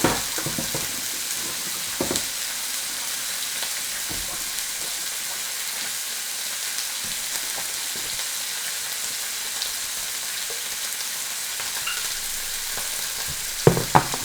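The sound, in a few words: sausages frying in pan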